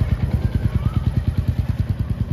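A Royal Enfield motorcycle engine, an Interceptor 650 or Meteor 350, idling close by with a loud, steady, rapid thumping pulse throughout and no talk.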